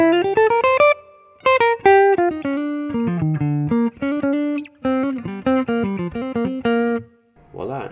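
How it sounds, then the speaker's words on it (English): Clean electric guitar set for a jazz tone through a Line 6 Helix with spring reverb, playing bright single notes and short chord phrases with quick plucked attacks and a splashy tail, loud and close. "Add some spring reverb."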